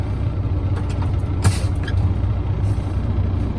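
A truck's air brake system cuts in over a steady low engine idle, with a brief sharp hiss near the start and a continuous rumbling hum throughout, close by.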